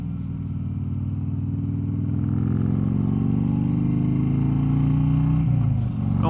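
A retired Harley-Davidson Electra Glide police motorcycle accelerating hard, its deep V-twin engine rising in pitch through the gear as it pulls, close and loud, then easing briefly near the end.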